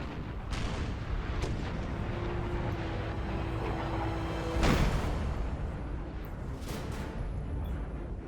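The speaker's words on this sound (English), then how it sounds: "artillery's trying to fire on this unit" Artillery fires in Total War: Napoleon at Waterloo, a few distant booms rolling under steady battlefield rumble, one heavier blast standing out midway.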